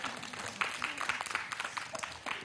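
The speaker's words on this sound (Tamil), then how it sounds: "கைத்தட்ட கொடுத்துரு" Small audience of children at a Tamil kids' show clapping in a brief, uneven patter of quick claps, moderately close, with faint voices mixed in underneath.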